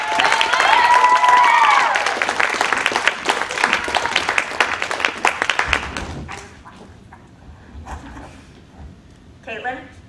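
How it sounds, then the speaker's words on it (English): Applause at a Farmingdale High School ASL Honor Society induction, loud, dense clapping with some cheering that fades out about six seconds in, followed by quieter room sounds and a brief voice near the end. "I would also like to give a big round of applause"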